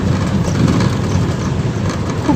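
A toto e-rickshaw pulls away on an early-morning ride toward a train station. A steady, dense rumble of road and wind noise fills the clip without letup.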